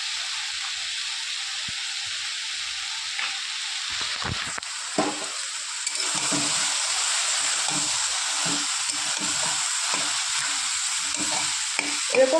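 Ground spices and halved garlic cloves fry in fish oil for an eggplant and onion chorchori. A quieter stretch gives way to a continuous close sizzle with rhythmic stirring and scraping, and no one speaks.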